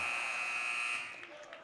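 A basketball game buzzer sounds at the end of the first quarter in a boys high school game between Gateway Legacy Christian Academy and Sikeston, a steady loud electronic tone lasting about a second over crowd noise before fading.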